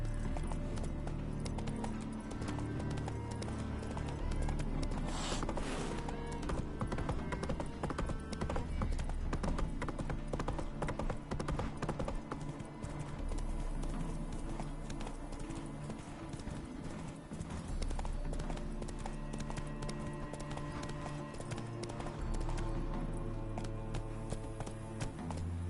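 A galloping horse's hooves keep up a continuous clip-clop rhythm in The Witcher 3, set against a loud, dense layer of game music and environment sound.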